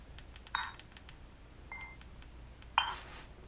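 Buttons pressed on an HTC EVO 4G phone fitted in a kickstand case: three short electronic tones with faint clicks, spaced apart over a quiet background.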